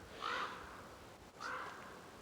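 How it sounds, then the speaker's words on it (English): A crow gives two hoarse caws spaced about a second apart, faint and somewhat distant against a quiet outdoor background. "So now he's crowing again."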